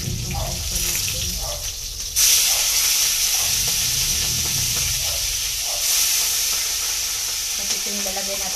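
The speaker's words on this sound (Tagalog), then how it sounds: "Tayo nagpiprito ngayon." Loud, steady frying sizzle with a constant hiss of steam, and occasional stirring or scraping in the pan. Nobody speaks.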